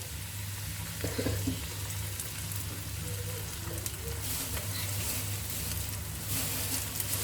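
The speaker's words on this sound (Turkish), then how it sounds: "Şimdi çırptığım yumurtayı patatesime ekliyorum." Beaten eggs fry with potatoes in a pan, giving a close, continuous crackling sizzle like light rain that holds steady throughout, with faint stirring beneath.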